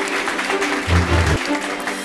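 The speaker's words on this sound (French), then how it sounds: "On applaudit s'il vous plaît." An audience breaks into applause at a ceremony honouring a competition participant, clapping fairly loudly and evenly, with a brief low rumble in the middle.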